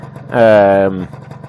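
A single short motorcycle engine rev on an overjetted carburettor with a 107 main jet swells and cuts off after about half a second, loud and close, with faint talk around it.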